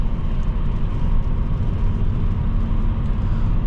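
Steady low road rumble and faint patter of light rain fill the quiet cabin of a 2015 Mercedes-Benz E350 4MATIC on a test drive, a constant even drone with no voices.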